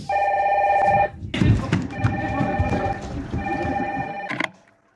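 A red telephone rings with a bright electronic bell tone, one burst of ringing, a pause, then two more bursts, while low murmuring voices and movement sit underneath before everything cuts to near silence.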